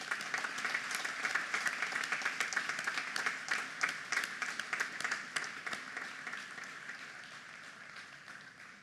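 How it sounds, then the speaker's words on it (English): A graduation-ceremony audience claps for parents and grandparents, a dense, steady round of applause from a large crowd that holds strong and then slowly thins toward the end. "Let's give a huge round of applause to all the parents and grandparents."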